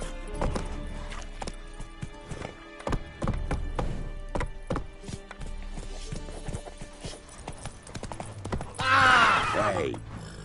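Galloping horse in The Witcher 3, steady clip-clop hoofbeats running throughout with a loud neigh near the end, under game music and ambient sound.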